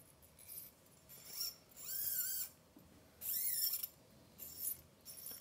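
Guitar strings being threaded through a Gibson-type tailpiece, giving several short scraping, squeaking metallic slides in separate bursts with quiet gaps between, close and fairly faint.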